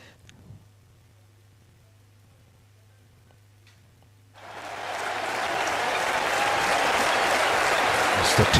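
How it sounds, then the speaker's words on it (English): After a few quiet seconds, a cricket match crowd erupts into broad, sustained applause that swells and holds loud to the end, a dense wash of clapping. "A good clapping."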